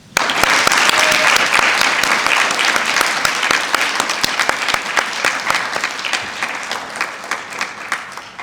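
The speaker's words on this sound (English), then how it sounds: "let us take a moment to acknowledge our resilience with a round of applause" Sustained audience applause at an LGBTQIA+ Lavender Graduation ceremony at St John's, dense and loud at first, then thinning into scattered individual claps toward the end.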